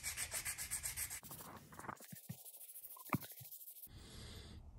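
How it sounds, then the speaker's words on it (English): Repeated close rubbing strokes of sandpaper on a wooden topwater popper fishing lure, rhythmic at first, then quieter scattered scrapes and a brief sharper scuff before steady sanding resumes. "And more sanding."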